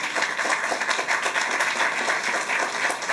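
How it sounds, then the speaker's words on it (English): Audience applause during a governor's remarks on affordable housing, loud continuous clapping from a crowd filling the whole stretch with an even, dense texture. "So let's give that a round of applause."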